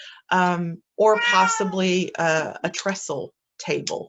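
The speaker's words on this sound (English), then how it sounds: "do excuse my cat" A pet cat meows in a drawn-out, insistent way, close by and loud, while a person talks.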